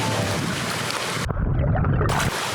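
Small LEGO boat driven by an official LEGO motor hums steadily through water, with splashing and sloshing noise all the way through and a brief quieter dip in the middle.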